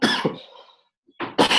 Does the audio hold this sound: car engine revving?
no